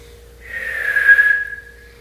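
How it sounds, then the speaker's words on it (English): A single whistled note swells in from near silence, holds steady and bright for about a second, then fades out, performed solo with no other sounds around it. "they just whistle like this."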